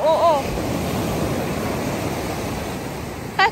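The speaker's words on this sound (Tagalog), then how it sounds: "malakas kasi yung alon" Strong ocean surf rolling onto a rocky stretch of Dinadiawan beach in Baler, Aurora, a steady loud wash of rushing water with a brief voice at the start and another near the end.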